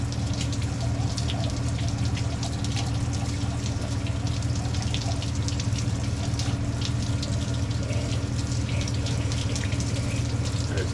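Green antifreeze drains from the cooling system of a 1969 Ford F250, a continuous splashing trickle under a steady low hum throughout.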